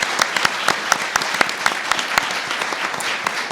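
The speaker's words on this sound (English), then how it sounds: "could we give them one more round of applause?" Symposium panel audience gives another round of applause, crisp and sustained clapping from many hands, fairly loud and even throughout, with no talking.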